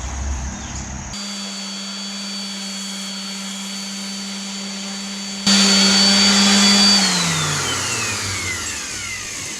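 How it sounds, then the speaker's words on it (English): A power sander runs against the curved ceiling of a school bus conversion with a loud, steady motor whine. It grows louder and harsher as it bites in, then winds down as the tool slows. "Let's get her sanded down a little bit."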